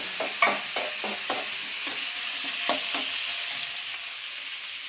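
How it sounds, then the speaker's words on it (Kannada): Onions sizzle steadily in hot oil with curry leaves and dried chilies, a constant frying hiss broken by several sharp scrapes of a spoon stirring in the pan, with no one talking. "ಈರುಳ್ಳಿ ನೋಡಿ ಫ್ರೈ ಆಗ್ತಿದೆ"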